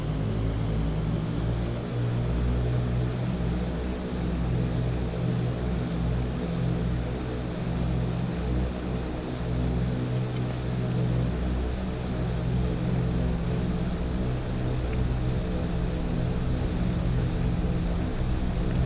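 Four-engine PMDG DC-6 propeller airliner in Microsoft Flight Simulator running at takeoff power, a steady, loud, dense droning roar with low throbbing hum throughout, no talk.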